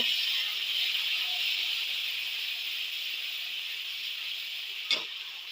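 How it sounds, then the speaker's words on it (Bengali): Water splashed into a hot pan of cooking spices for a vegetarian chickpea dal with young jackfruit sets off a steady, close sizzling hiss that keeps going, with one brief knock near the end. "বাটিটা দিয়ে একটু জল দেব"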